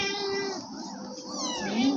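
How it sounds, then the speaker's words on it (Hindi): A cat in a Pakistani village home meows in two drawn-out, close, moderately loud calls, one rising at the end, with kittens nearby and no talking over it. "बिल्ली बोलने लग।"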